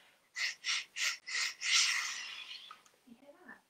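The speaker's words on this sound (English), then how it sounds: "That's all air coming up through my lungs, out of my mouth, and down the oboe." Breath is blown through an oboe as four short, evenly spaced breathy puffs, then one longer sustained rush of air that fades, with faint soft sounds at the end; close and fairly quiet.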